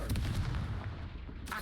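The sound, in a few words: Confringo blast spell from the video game Hogwarts Legacy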